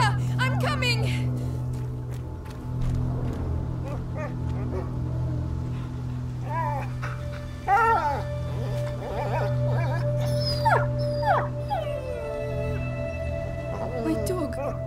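Dog whimpering and whining in the video game A Plague Tale: Innocence, thin high cries scattered over a low engine-like drone, with people talking at intervals.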